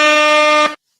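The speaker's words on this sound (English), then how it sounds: "Give him some air horns." A loud, sustained air horn blast, one steady blaring tone lasting most of a second that cuts off abruptly, dropped in as a celebratory sound effect during a sports talk show.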